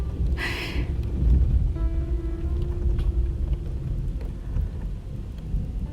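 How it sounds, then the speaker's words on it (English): Rain patters steadily on the roof of a VW camper parked under a tree during a thunderstorm, with a sharp crack of thunder early on and low rumbling beneath, close and enveloping with no voices. "It is quite cosy though when there's a thunderstorm."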